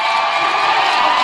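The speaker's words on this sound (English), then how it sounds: "you can hear the crowd going crazy" Roller derby crowd in an arena roaring and cheering continuously at a lead change, a dense, loud wash of voices with no break.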